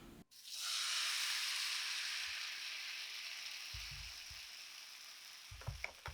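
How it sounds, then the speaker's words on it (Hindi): Dosa batter sizzles loudly on a hot tawa griddle, a steady broad hiss that begins abruptly and holds throughout with a few soft low knocks from the ladle, and no talking. "तवा अच्छे से गर्म हो चुका है और अब हम घोल को तले से चलाते हुए तवे पे फैलाते हैं"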